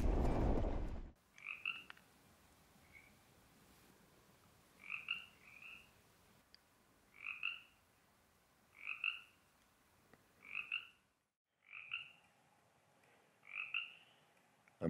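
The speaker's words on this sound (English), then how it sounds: "I'm loving the sound of the sapos, the frogs." Frogs croak in a steady rhythm, a paired chirping call repeating every second or so against a quiet outdoor background in Baja California.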